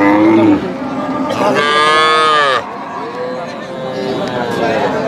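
A local cow with her calf at a rural cattle market in Dinajpur, Bangladesh, lows with a long, loud, drawn-out moo close by, while people talk over the market's general chatter.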